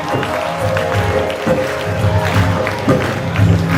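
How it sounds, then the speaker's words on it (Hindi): Audience at a Shri Shyam devotional gathering applauds to welcome the Lucknow police commissioner, dense sustained clapping with a constant hum and music tones beneath, fairly loud and continuous. "जोरदार तालियों के साथ स्वागत करिए आप लोगों का।"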